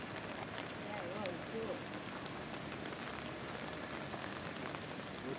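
Rain falls steadily outdoors in Travnik, a dense even patter on surfaces, with a voice murmuring faintly beneath it.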